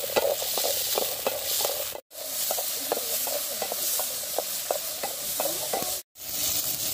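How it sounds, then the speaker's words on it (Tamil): Small onions sautéing in hot oil in a pan for a garlic kulambu, a continuous sizzle broken by rhythmic scrapes and stirring strokes, with two brief silent gaps. "வெங்காயத்தை கொஞ்சம் நல்லா வதக்கிக்கலாம்ங்க"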